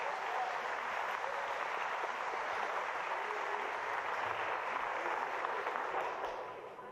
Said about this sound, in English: The applause you heard there was once again for Torsten Homan.